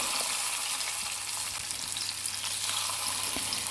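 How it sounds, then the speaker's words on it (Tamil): Marinated sardines fry in hot oil, a steady close crackling sizzle with fine spitting pops throughout, no talk. "இப்போது நம்ம மேரினேட் பண்ணி வச்சுருந்த இந்த மத்தி மீனை இதில் ஃப்ரை பண்ணிக்கலாம்."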